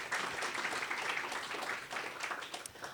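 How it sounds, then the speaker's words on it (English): Audience applause for a guest at a corporate talk event, a steady wash of clapping from a crowd, fairly quiet and distant, continuous for the whole stretch with no pauses. "can we all start with a quick round of applause for Josh for being here"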